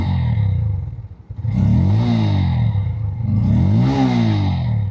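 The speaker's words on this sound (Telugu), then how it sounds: "అండర్ బెల్లీ ఎగ్జాస్ట్ అయినప్పటికీ కూడా దీని యొక్క ఎగ్జాస్ట్ సౌండ్ అనేది చాలా బాగుంది." A 2026 Bajaj Pulsar N160 motorcycle with an underbelly exhaust idles close by, then revs twice in rising and falling sweeps, its single-cylinder exhaust note loud and unaccompanied by talk.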